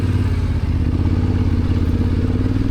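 A Yamaha Tenere motorcycle rides a mountain road in the French Alps in winter, its engine a steady, throbbing low rumble heard up close and loud, with no talking.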